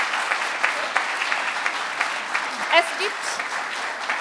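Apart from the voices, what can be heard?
applause for prize winners on stage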